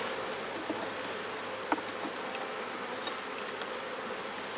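Honey bees swarm around their hive on a warm day after winter, making a steady, dense buzzing drone that stays even throughout with no voices.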